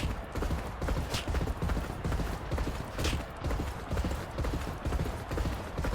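Rhythmic hoofbeats of a racehorse in a horse-racing video game pound steadily in a fast galloping pattern, loud and continuous under a rumbling, crowd-like background.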